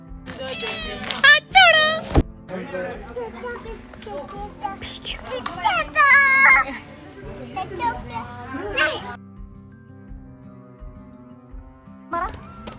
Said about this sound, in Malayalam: ഈ ഒരു പൂച്ച വന്നു